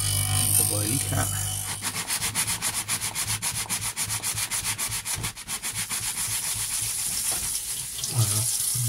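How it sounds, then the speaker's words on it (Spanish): Sandpaper rubs back and forth by hand on a workpiece while a noise-canceller unit is being built, producing a fast rhythmic scratching stroke pattern for several seconds, close and fairly loud, with brief voice sounds at the start and end. "Un poco de lija."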